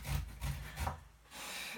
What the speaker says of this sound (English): And just grate about an inch of root ginger.